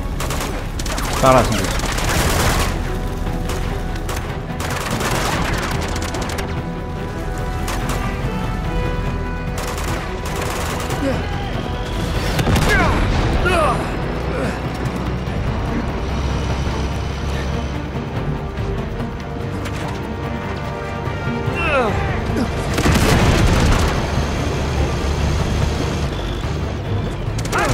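Bursts of enemy gunfire and booming explosions in the video game Uncharted 2, rattling volleys recurring every few seconds over a tense musical bed, with someone speaking French between them.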